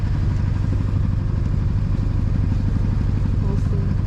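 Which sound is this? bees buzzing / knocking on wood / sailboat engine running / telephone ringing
sailboat engine running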